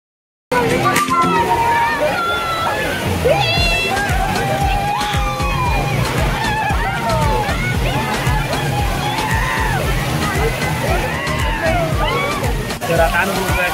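Water sloshes and splashes continuously at a crowded water park, with many excited voices and shrieks mixed into the loud churning.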